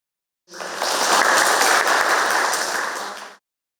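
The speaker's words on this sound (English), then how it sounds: "we would like to give a round of applause" An audience applauds steadily for about three seconds at a keynote speech, a dense wash of many hands clapping at once that swells in and fades out.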